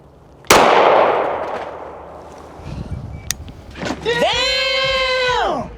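A single loud, sharp gunshot from a John Jardine custom 1911 pistol firing .45 rounds into a watermelon, with a decaying splash. A person then cries out with a drawn-out voiced exclamation.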